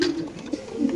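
Racer pigeons at a farm loft give short, close cooing calls, several low rounded coos in a row over a light background hiss, with no talk.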